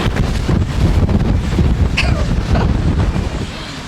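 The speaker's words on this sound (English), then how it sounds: "it's cold and unbelievably windy" Strong wind buffets the microphone in a steady, roaring rush, with gusty low rumbling throughout and no one speaking.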